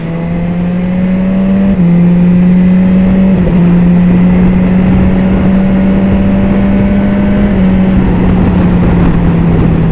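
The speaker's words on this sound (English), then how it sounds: "let's listen to this quick shifter again" A BMW S1000XR motorcycle engine drones loudly and steadily while riding, with brief dips in pitch as the quick shifter snaps through a few gear changes, heavy wind rush underneath.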